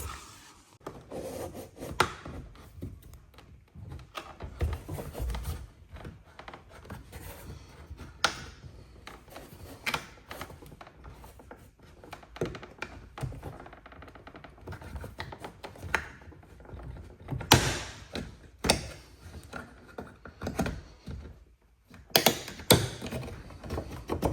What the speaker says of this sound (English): You need to get the handle split, so you need to stick the plastic tool in here